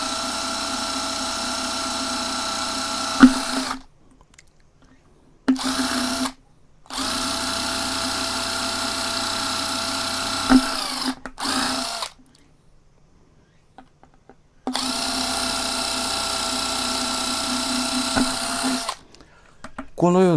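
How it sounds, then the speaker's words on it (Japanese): An impact driver bores holes into a tissue box made from a motorcycle-shaped lunch box, giving close, loud bursts of buzzing motor whine that start and stop several times with short silent gaps between them. "さすがにインパクトドライバーだと早いですね"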